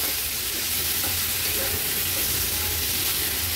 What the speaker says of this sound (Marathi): आता आपण ह्याच्यामध्ये हा मॅरिनेट केलेला कलेजी पेठा ऍड करणार आहोत। व्यवस्थित तेलावर असा परतून घेते।